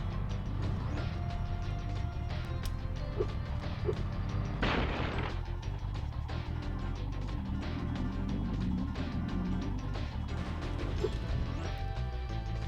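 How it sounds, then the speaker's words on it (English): Continuous loud gunfire in Spyro 2: Gateway to Glimmer, dense rapid shots with a heavy crash or explosion partway through, steady throughout. "Prepare to hear a lot of gunfire."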